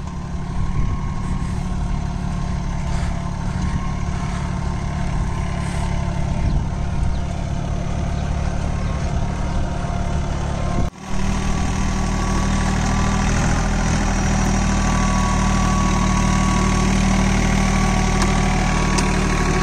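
A Swaraj Target 630 4WD mini tractor engine runs steadily, a continuous low diesel chug and vibration, close and loud, with a brief dip partway through before the engine carries on unchanged.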